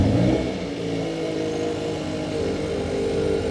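Hyundai i30N Performance engine running at close range, a loud steady rumble with a rev that falls back and then rises slightly, without talk.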